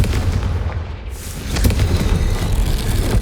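In the Hogwarts Legacy video game, a Confringo spell bursts into a loud booming explosion that rumbles low, dips briefly, then swells into a second roaring blast with no voices over it.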